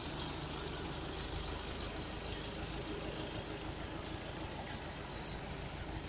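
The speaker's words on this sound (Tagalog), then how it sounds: "Mga ibang tractor." A farm tractor engine idles with a dense, steady, low rumble and faint rapid knocking, constant and moderately near throughout, with no talking.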